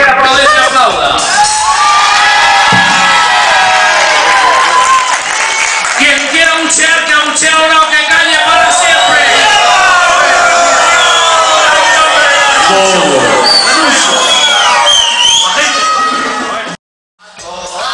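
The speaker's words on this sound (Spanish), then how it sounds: "quien quiera aplaudir, se aplauda." An audience at a show by Orquesta Diamante claps, cheers and whoops loudly and continuously, with children's shouts and scattered voices mixed into the dense crowd noise before it cuts off abruptly near the end.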